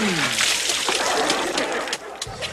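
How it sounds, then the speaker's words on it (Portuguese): A bucket full of water dumped over a person lands as a broad, loud splash followed by sloshing and dripping, with lively crowd noise and voices around it at a televised festival show. "o Boboca pegou um balde cheio d'água e aí botou em cima"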